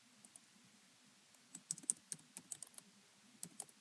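Keystrokes on a computer keyboard as a new folder is named, a quiet, irregular run of light clicks that starts sparse and then comes in quick bursts, with nobody speaking.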